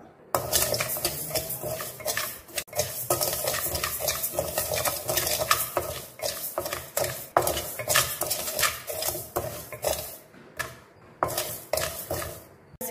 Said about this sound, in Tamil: பச்சரிசியை நல்லா பொரியரிசி ஆகிற அளவுக்கு நல்லா வறுத்து எடுத்துக்கலாம்